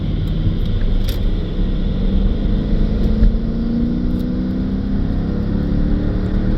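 A 2008 Jaguar XJ8 with a rebuilt title speeds up on the road, its engine a loud, steady low rumble with a faint rising pitch as it accelerates, heard from inside the car.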